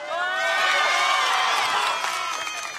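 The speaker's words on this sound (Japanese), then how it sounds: "観客も選手も大盛り上がりで、普段は静かな山里に歓声が響いていました" A crowd cheers and shouts at a mud-covered sports day in a mountain village in Japan, with loud, sustained voices rising together, some high children's shouts among them.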